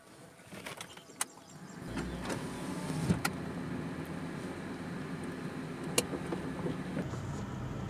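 Steady road rumble and engine hum from inside a moving modified Toyota Corolla, with a few sharp clicks and rattles; no one speaks.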